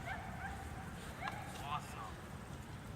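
A small disc dog gives faint yips and whimpers, a few brief high cries heard at a distance, while a person speaks close by.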